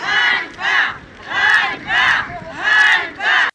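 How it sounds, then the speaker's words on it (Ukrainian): Protesters shout in loud, rhythmic bursts at a village council session in Drozdivka over the closure of the local school, roughly six chanted outcries with short pauses between them, close and forceful. "Під вигуки протестувальників сесія селищної ради продовжилась"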